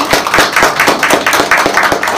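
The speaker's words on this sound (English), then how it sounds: "Let us have a big round of applause for Team B." Brief close-up clapping for the winning team at a school science quiz competition, a handful of people clapping in a quick, fairly regular rhythm, loud and near, with no voices.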